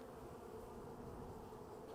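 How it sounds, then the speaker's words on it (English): Honeybees coming loose from a package give a steady, close, dense buzzing drone, soft and continuous, with no voices. "Our bees are loose, they're coming out of the package."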